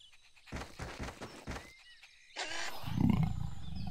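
A few rhythmic growling pulses followed by a loud, rough roar from a clouded leopard, close and powerful, with no talking.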